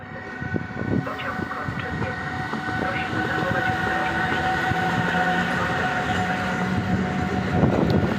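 An Intercity train departing Szczecin Główny station rumbles and clatters past at close range, wheels clicking over the rails under a steady, loud mechanical drone.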